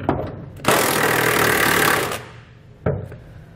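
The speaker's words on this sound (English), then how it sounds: "We'll use a 21 millimeter socket, and we're going to be removing both of the bottom bolts where they go up into the frame." A power tool with a 21 mm socket drives out bumper-to-frame bolts on a 2017 Chevrolet Silverado 1500 in a loud, sustained rattling burst, followed by a shorter second burst.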